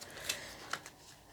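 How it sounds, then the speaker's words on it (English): Sacred Rebels oracle cards shuffled by hand, a few soft riffling flicks close by, quiet and brief with no talking. "These cards are not particularly hard to shuffle"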